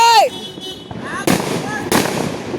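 Diwali firecrackers go off among friends in Gandhinagar: a descending whistle, then two sharp, loud bangs close by with crackling tails, while excited voices shout in between.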